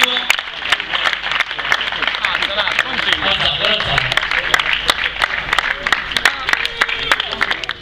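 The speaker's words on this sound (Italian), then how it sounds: "Un applauso signori." An audience at an award ceremony for a memorial event applauds with dense, continuous clapping, close and lively, while voices talk over it.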